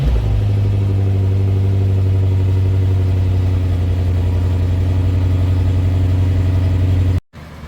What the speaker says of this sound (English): Now that was a proper cold start.